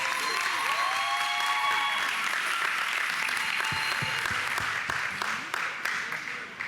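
Audience applause at a school board meeting honoring Linden High School's Teacher of the Year, a dense, steady wash of many hands clapping that thins into scattered claps toward the end, with faint voices and whoops mixed in.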